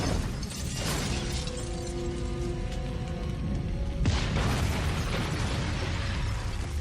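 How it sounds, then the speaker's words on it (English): A van explodes in a film scene, a blast followed by crackling burning and debris with a second loud burst partway through, heard at moderate volume with no talking. "Limping away from an exploding van full of dead guy."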